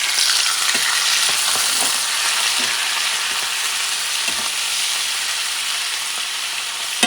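Shrimp fry in a pot for Louisiana-style gumbo over heat a little above medium. A loud, continuous sizzle runs throughout, broken by scraping stirs, with a sharp knock at the end.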